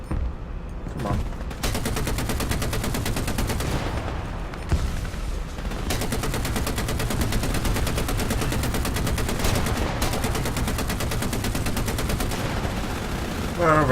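Sustained automatic gunfire from War Thunder on a custom battle, with rapid, dense bursts of shots in close succession. Brief pauses break the volleys before the firing resumes loudly.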